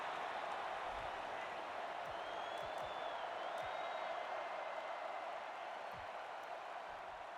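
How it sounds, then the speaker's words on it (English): Stadium crowd in the NCAA Football 09 video game, a steady wall of distant roaring cheers at constant level, with a few faint thuds underneath and no talking. "the crowd is just going ballistic in support of their defense right here on 3rd and short"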